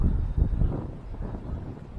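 Low rumbling gusts buffet the microphone, a muffled, uneven roar rising and falling with no voices.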